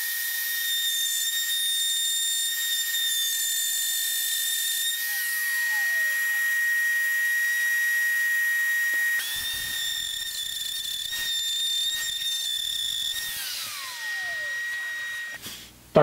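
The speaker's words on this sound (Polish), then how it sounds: "wtedy można ruszać do akcji z frezarką" Handheld wood router milling a slot through a board clamped under a template, a loud continuous high-pitched whine with a short drop in pitch partway through, then spinning down at the end.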